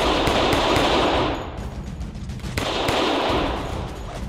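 Rapid automatic gunfire from a gun in a war simulator video game, loud dense bursts that ease off briefly in the middle and then resume, with no talking.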